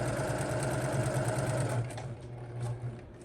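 A sewing machine stitches a blue hexagon quilt with a close, steady motorized whir. The higher tones soften partway through while the low hum carries on, and no one speaks.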